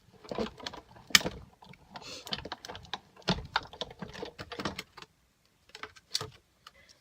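A hand-cranked die-cutting machine feeds a stack of cutting plates, paper and a thin metal die through for card making, giving a run of irregular clicks, clacks and rattles up close, some sharper knocks, with no talking.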